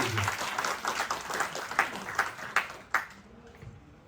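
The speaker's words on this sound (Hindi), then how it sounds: "मैं आपसे रिक्वेस्ट करता हूं कि आप सब जोरदार तालियां बजाकर इनका स्वागत कीजिए" An audience at a meeting applauds to welcome the chairman. Dense clapping starts out loud and close, then breaks into a few distinct claps and fades out.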